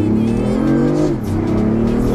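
A BMW i8 accelerating hard in Sport mode, its engine loud and close with a rising, droning tone and a brief dip as it pulls strongly.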